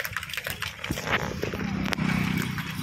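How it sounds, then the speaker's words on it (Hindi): A horse walks along a riding trail with rhythmic clip-clopping hooves, heard close under steady outdoor noise while people talk. "यहाँ पे घोड़ा ढम ढम ढम चल रहा है"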